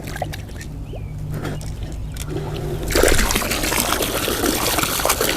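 SMARTBOT mini utility water pump running in water, a steady low hum with trickling and splashing that turns into a louder, broad rushing gush partway through, close by and without talk.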